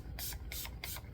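A makeup setting spray mister bottle gives four short, quick hissing bursts spaced about a third of a second apart, close up and soft, with no talking.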